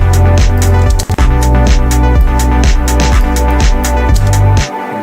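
Retro synth arpeggio from an ARP MIDI effect in a chill house production, loud and steady with rapid repeating notes stepping up and down in a pulsing pattern, briefly dropping out near one second and cutting off at the end.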